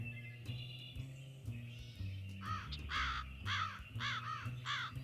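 A crow caws in a string of harsh, repeated calls, loud and fairly close, rising over a low, steady background hum with several evenly spaced caws in the second half.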